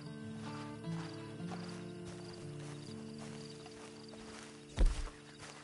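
A horse in Red Dead Online, soft hoof clops and snorting under game ambience and music, with a loud thump near the end.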